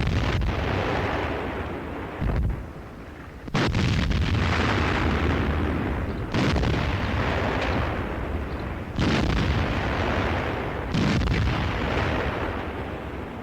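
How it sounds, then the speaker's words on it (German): Artillery barrage preparing a 1941 German assault across the Dnieper near Kremenchuk, heard as a run of heavy booming blasts with sustained rumbling between them, loud and dense with brief drops between bursts. "Artillerie bereitet den Angriff über den Dnjepr vor"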